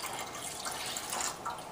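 Warm milk is poured into a bread mixture in a bowl, a steady, close liquid splash and trickle lasting under two seconds.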